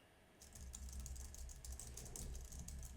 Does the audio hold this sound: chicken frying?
no